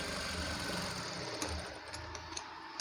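A sewing machine stitches a blouse with a steady, close mechanical hum and rapid needle rattle that fades toward the end, a few light clicks following.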